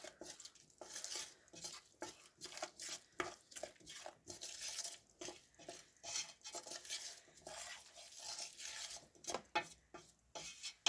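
A spoon stirs onions and spices in a cooking pot, giving repeated scraping and clinking strokes against the metal in an irregular rhythm, close and fairly quiet, with no talking.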